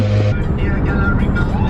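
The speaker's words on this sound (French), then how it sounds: "Désolée pour le bruit, on est dans une station essence" Steady rumble of a car engine nearby at a petrol station in the rain in Lille, with passing traffic noise and a brief higher whine fading out early.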